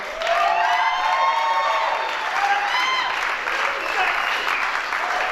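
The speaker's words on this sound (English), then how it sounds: "Everybody, clap your hands for Kelly Rowe." A live audience at a comedy benefit show at New Mountain in Asheville applauds and cheers for comedian Kelly Rowe: steady, dense clapping with scattered whoops, loud and sustained throughout, with no speech over it.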